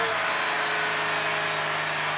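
The engine of a 2005 Honda Odyssey runs at high revs, a steady loud droning hum with a constant tone throughout and no voices.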